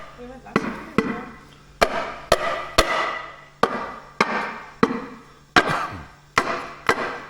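A copper part on a Land Rover Series 3 engine is struck by hand again and again, giving about a dozen sharp, ringing knocks at an uneven beat, loud and close.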